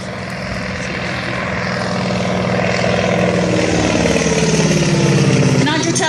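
A Staggerwing biplane's engine and propeller run at an airfield, a steady droning rumble with a pulsing beat that slowly grows louder, close by and loud.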